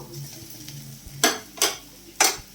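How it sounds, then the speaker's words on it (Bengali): Mashed boiled potatoes are mixed into fried masala in a pan with a spatula, giving three loud scraping strokes against the pan after a quieter stretch, with no voices. "মশলার সঙ্গে ভালো করে আমি এটাকে মিক্স করে নেব"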